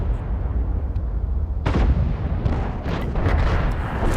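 Tank cannon of an FV3805 firing in World of Tanks, heard as a loud booming blast that rolls out over a dense, rumbling battle backdrop, with further muffled thuds trailing after it.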